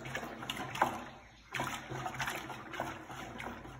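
A stick stirs a bucket of giant soap bubble solution made with water, giving a close, continuous wet swishing and splashing with a brief lull midway.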